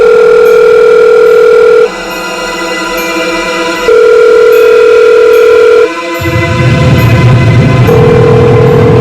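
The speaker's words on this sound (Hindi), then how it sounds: "जितेंद्र फोन नहीं उठा रहा।" A telephone ringback tone repeats in long steady beeps with gaps between them while a call goes unanswered. A louder rumbling noise enters near the end.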